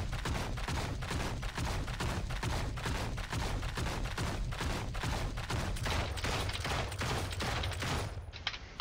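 Rapid, evenly spaced gunfire from the Punisher's Magnum and Buckshot weapons in the Marvel Heroes video game, a sustained volley of sharp shots at a steady rhythm, moderately quiet, with no talk over it.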